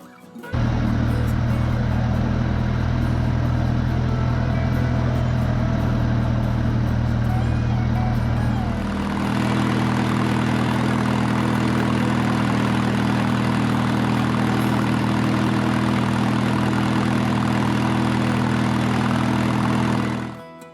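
A farm tractor engine runs at a steady idle, loud and close, with a constant low droning hum that shifts slightly in tone partway through and continues unbroken to the end.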